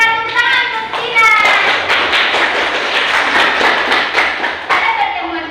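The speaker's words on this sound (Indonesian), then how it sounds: "kita tepuk tangan untuk Tina." Classroom applause as a class claps for a student, a dense burst of many hands clapping together for several seconds, close and lively, with voices heard at the start and end.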